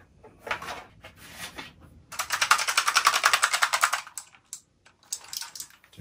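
Rapid clicking of a pink Razer Quartz Edition gaming keyboard, a dense run of close, crisp key clacks for about two seconds with a few scattered taps before and after, no talking.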